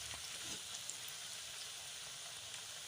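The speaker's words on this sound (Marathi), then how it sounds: "तेल तापल्यानंतर चकल्या त्यात सोडायच्या." Chakli dough spirals frying in hot oil, a steady soft hiss and crackle of bubbling oil, quiet and continuous with no voices.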